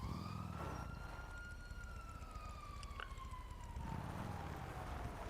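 A police car siren in the video game GTA Online wails, rising and falling steadily through the whole stretch, fairly quiet and distant over a low rumbling background, with a brief click midway.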